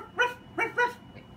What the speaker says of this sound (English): Oh, that's a dog.